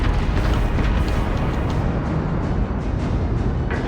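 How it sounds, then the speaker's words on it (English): A torpedo strikes a warship in World of Warships Legends, setting off a heavy, rumbling explosion that fills the clip with deep booming and crackling debris, loud and continuous for several seconds. "Just stuck a torpedo in someone."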